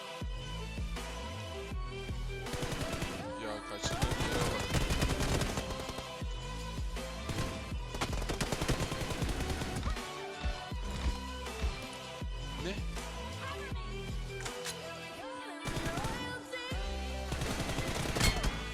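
Gunfire from a shooting video game crackles in rapid bursts and scattered shots, layered with dense game sound and a voice talking over it for the whole stretch.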